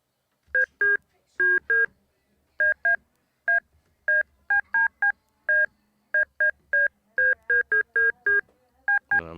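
A Donner Essential L1 synthesizer plays short, clean beeping tones in irregular bursts that closely mimic old-style telephone keypad dialing, loud and alone.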